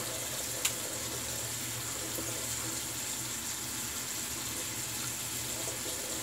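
Water runs steadily from a bathroom tap while an alum block is rinsed after a shave, a faint constant splashing hiss with a tiny knock near the start.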